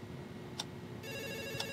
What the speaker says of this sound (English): And there's a phone call.